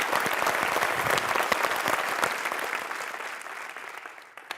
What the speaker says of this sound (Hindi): एक बार फिर तालियों से सलाम करते हैं